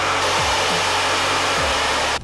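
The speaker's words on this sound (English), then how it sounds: "I am going to blow dry and curl my hair and put my extensions in." A hair dryer blows hair dry before curling, a loud steady close whoosh running without a break and cutting off at the end.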